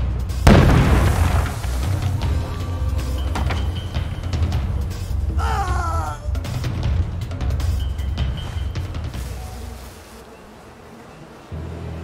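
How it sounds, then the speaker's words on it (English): Bombing in the game We Happy Few, with a heavy booming blast at the start, then a sustained low rumble and a mix of rattling debris, falling to quiet near the end. "They're bombing us again!"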